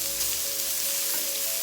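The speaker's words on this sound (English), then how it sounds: "So I just put this meat in the same cast iron pan I cooked everything else in." Meat sizzles steadily in a cast iron pan, a close, even frying hiss with no talking over it.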